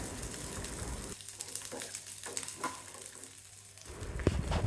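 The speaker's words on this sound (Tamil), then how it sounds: "உரித்து வச்சுருந்த வெங்காயம், பூண்டு, பச்சை மிளகாய் சேர்த்து வதக்கணும்" Chopped onion, garlic and green chillies with peanuts sizzle steadily in hot oil in a pan, a soft continuous frying hiss with faint stirring scrapes, ending in a sharper clatter.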